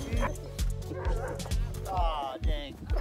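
Sled dogs in an Alaskan summer dog-sled camp bark, yip and whimper close by in a busy overlapping chorus, with bursts repeating every half second or so.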